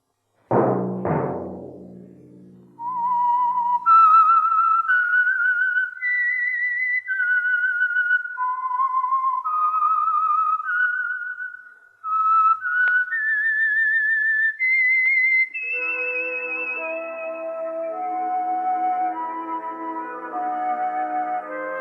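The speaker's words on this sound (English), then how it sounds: "Let that whistle be your signal for the Signal Oil program, The Whistler" A whistled theme melody opening The Whistler, a Signal Oil-sponsored radio mystery drama, rises and falls in clear, steady tones before an orchestral passage swells in beneath it.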